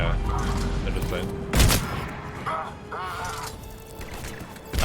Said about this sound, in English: That shotgun sounds really loud.